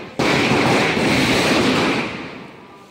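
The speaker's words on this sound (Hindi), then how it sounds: "पटाखा उटाखा फूटते हुए" A dense, continuous crackle of firecrackers bursting close by at a lit-up temple celebration, loud and sustained before gradually thinning out at the end.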